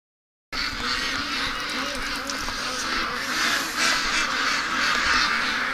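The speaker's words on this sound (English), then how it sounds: "Ducks are losing it, they want out." Ducks kept outdoors on a cold, wet, rainy day quack loudly and continuously from close by, a dense overlapping clamor that starts abruptly and runs without pause.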